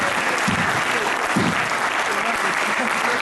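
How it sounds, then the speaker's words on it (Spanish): Audience applause for Ben and Ani at a club history event, steady dense clapping filling the whole stretch with a few louder claps near the front. "Un aplauso para Ben y para Ani."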